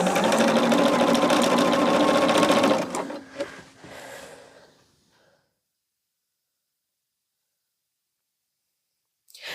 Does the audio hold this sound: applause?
no